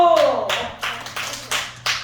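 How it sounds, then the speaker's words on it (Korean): A group of students in a martial arts hall claps on command, giving four or five loud, evenly spaced claps in unison after a shouted call. "박수!"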